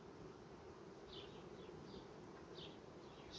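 Honey bees buzz softly and steadily while working calmly on an empty hive frame, a faint continuous hum with a few brief higher wingbeat whines passing close by.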